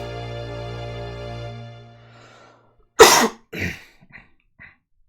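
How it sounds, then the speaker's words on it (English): A person with bronchitis gives one harsh, loud cough, then a few weaker, trailing coughs after a fading sustained musical tone. "You have to excuse my coughing"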